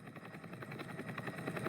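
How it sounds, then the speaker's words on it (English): A helicopter arrives for extraction in the stealth video game Entry Point, its rotor thumping in a steady rapid pulse that grows slightly stronger, fairly faint under a soft wash of game ambience. "the helicopter's here, so we're just going to get out of here"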